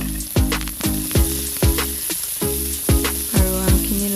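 Green mango pieces with chilies fry in a hot pan, a steady loud sizzle broken by regular stirring scrapes and spatula knocks that repeat every half second or so, close up with no talk.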